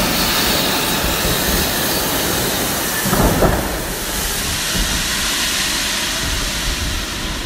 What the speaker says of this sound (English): This plane struggles to gain altitude.